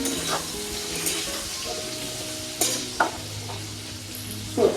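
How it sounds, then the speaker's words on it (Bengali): Green chillies frying in a pan of oil for a pabda fish curry, a soft steady sizzle with a few spoon stirs and clinks close by, no voices. "কাঁচা লঙ্কা দিয়ে দিচ্ছি,"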